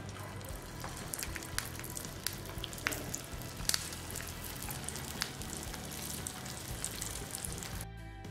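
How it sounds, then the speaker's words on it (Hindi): Moong dal rolls deep-fry in oil, a close continuous bubbling sizzle with scattered small pops and one brief clatter, no voices. "हम बाकी के मूंग दाल रोल ऐसे ही ब्राउन होने तक तल लेंगे"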